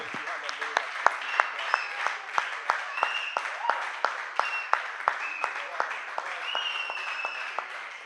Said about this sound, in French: Est-ce qu'on peut acclamer encore une fois le Seigneur?